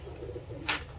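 Lal Pari pigeons cooing softly at close range, a low murmuring coo running under a brief sharp rustle partway through.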